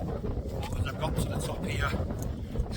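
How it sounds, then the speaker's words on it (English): Wind buffeting a microphone on the summit of Pendle Hill, a steady rushing roar throughout, with a person talking over it. "As I've got to the top here, it's quite windy as you would expect."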